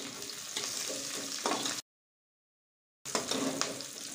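Chopped curry leaves fry in hot oil with turmeric, giving a close, crackling sizzle that breaks off into a second of silence and then resumes with the same spattering texture.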